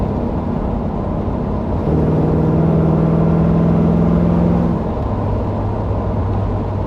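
Steady drone of a 1979 Camaro engine while driving at about 37 miles an hour, a sustained mid-low hum that deepens and strengthens briefly in the middle, then settles back to an even cruise tone.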